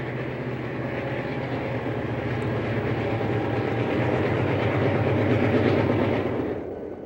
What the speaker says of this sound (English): Here we see an eastbound cross the bridge with a trailer train.